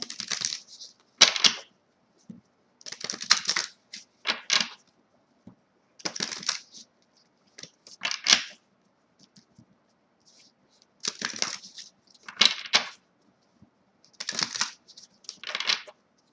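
Tarot cards are shuffled and split into three piles for a pick-a-card reading, heard as close, crisp bursts of riffling and slapping card stock separated by brief silences, repeating in an irregular rhythm.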